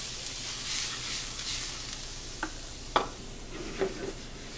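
Diced onions and fennel sizzle softly in extra virgin olive oil in a restaurant kitchen, a faint steady hiss broken by a few scraping stirs of a spoon or spatula against the pan.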